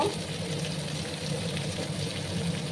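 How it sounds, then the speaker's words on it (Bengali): Bottle gourd, sweet pumpkin and potato frying in a pan, a steady soft sizzle and crackle heard close up, fairly quiet and continuous with no talking. "2 মিনিটের মতো আমি এবার লাউ আর মিষ্টি কুমড়ো আর আলুটাকে ফ্রাই করে নেব"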